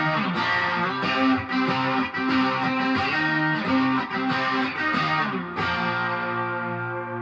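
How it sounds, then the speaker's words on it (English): A Schecter PT Black Ops electric guitar plays through distortion, with loud, gritty strummed chords and a few sharp string attacks, then a final chord ringing out and fading, with no talk. "if we add just a little bit of distortion, it goes,"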